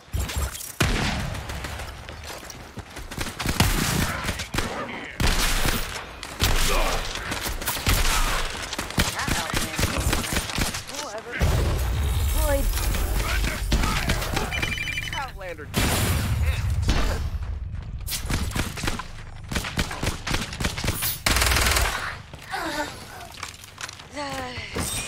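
Bursts of shooter-game gunfire and impacts come in rapid clusters throughout, mixed with players talking over them.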